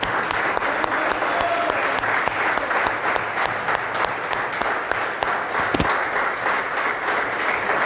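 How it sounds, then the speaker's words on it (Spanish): Steady, dense applause from a church congregation during a sermon, continuous clapping for the full stretch with no talking. "le voy a aplaudir al Señor."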